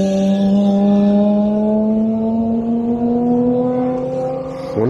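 A Mazda RX-7 race car with a Wankel engine drives past on a circuit, a loud, high-revving whine held steady and rising slightly in pitch as it passes close by, with no talking.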